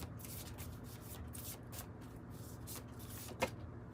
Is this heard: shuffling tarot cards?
yes